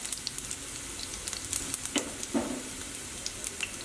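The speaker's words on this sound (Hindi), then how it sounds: "लहसुन थोड़ा सा लाल हो जाए" Garlic frying in hot oil gives a faint, steady crackle with a few sharper pops standing out, and no voices.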